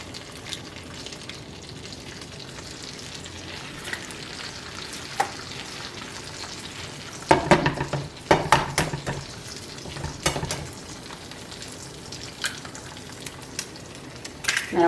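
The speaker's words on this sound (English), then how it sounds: "So now I've added my two pieces of bread, and I'm going to just crack my egg into the middle." Bread and an egg fry in a pan with a steady, close sizzle, broken by scattered clinks and scrapes of a utensil against the pan.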